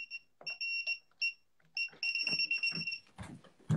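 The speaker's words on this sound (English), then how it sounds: "My alarm's gonna go off." A phone alarm goes off at close range, repeating short electronic beeping bursts in a rhythmic pattern, with faint voices and movement noise toward the end.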